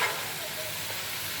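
Jackfruit pieces from the village are stirred into spiced curry in a hot pan, producing a steady close hiss of sizzling with faint stirring movement and no clear talk.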